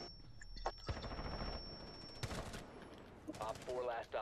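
Gunfire in the Rainbow Six Siege video game, with rapid automatic bursts and sharp single shots packed into a few seconds, alongside game sound effects and a player's voice.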